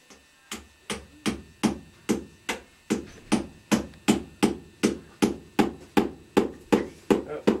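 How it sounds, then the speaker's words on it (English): A drill bit is hammered into a hole like a center punch, about sixteen sharp metallic blows landing in a steady, even rhythm, close and fairly loud. "She was pounding in one of the drill bits into the hole, making it really big."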